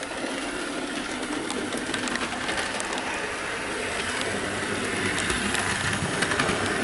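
A Hornby LSWR Class T9 model locomotive runs steadily with a smooth, even mechanical whir and light rattling, close by and unbroken throughout.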